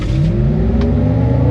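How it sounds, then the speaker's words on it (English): A 1,000 hp, 9,000-pound GMC Hummer EV pickup launching from a standstill, a loud close whirring electric drone that climbs steadily in pitch over a short burst. "I will hold the brake, apply the throttle, and then we're gonna go see what 0 to 60 is"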